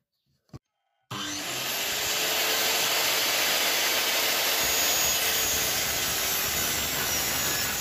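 A saw makes an angled cut through wood for a homemade wooden toy truck, a loud steady rasping that starts abruptly after a short tap and runs continuously to the end.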